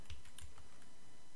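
Keys clatter on a computer keyboard in a few quick, close taps during coding, followed by a short quiet stretch, with nobody speaking.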